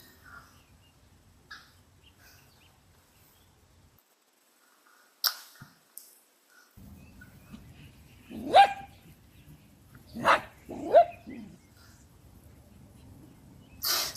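A dachshund, one that had been dragging its back legs, gives a few sharp barks spaced several seconds apart against a quiet room with occasional small knocks.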